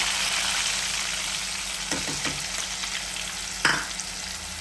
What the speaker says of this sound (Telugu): ఇందులో నేను అల్లం వెల్లుల్లి పేస్ట్ కూడా వేస్తున్నా